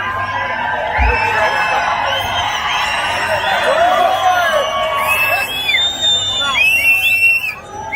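A large crowd at a Shiv Sena political rally whistles shrilly and cheers in a dense, continuous roar, with rising whistle sweeps cutting through the babble throughout.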